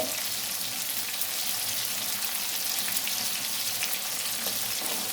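Food fries in a pan over a high flame, giving a steady, even sizzle that holds without a break from start to finish, with no voices over it.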